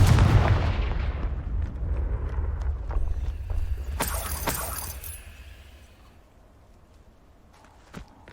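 Confringo fire-blast spells in the Hogwarts Legacy video game, a deep booming explosion with rumbling low end that decays over several seconds, with sharp crackling impacts and a faint final pop.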